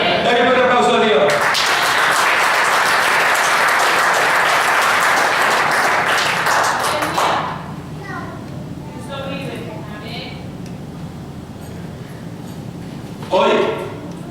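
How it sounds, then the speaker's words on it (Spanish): A church congregation gives loud, dense applause that fills the first seven seconds and then fades out, leaving a voice and scattered cheers in the quieter remainder. "Dale un aplauso a Dios."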